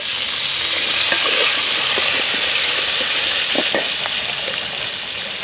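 Three chopped tomatoes frying in a hot pan, giving a steady loud sizzle with scraping stir clicks, heard up close and without any talking.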